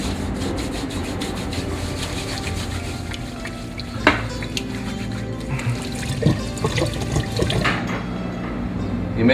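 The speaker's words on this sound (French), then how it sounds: "passez vos mains sous l'eau quelques secondes" Hands rub together under running tap water, a steady close wash of flowing water with scrubbing friction and a few louder splashes, no talking.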